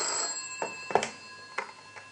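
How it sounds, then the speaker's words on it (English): A telephone rings in a shop, a steady electronic trill repeating in short pulses, moderately close and heard alone. "the phone rang in his shop"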